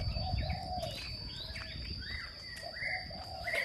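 A caged hwamei songbird sings faint whistled phrases and chirps in a busy outdoor setting, the notes rising and falling in short bursts over steady background hum and occasional cooing.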